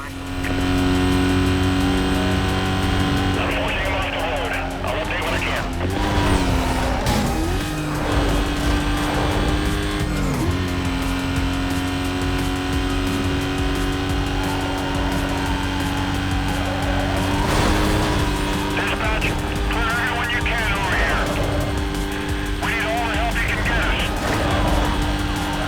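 A car races at speed in the 2005 Need for Speed: Most Wanted, the engine droning and revving loudly throughout with tire squeals and shifting pitch, while someone talks over it.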